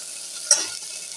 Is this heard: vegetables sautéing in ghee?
yes